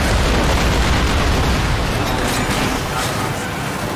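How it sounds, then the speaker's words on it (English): Exploding flies bursting in the snowy mountain setting of Lost Planet: Extreme Condition, a loud, dense, continuous rumble of blasts filling the whole stretch with no pauses. "those exploding flies are so annoying!"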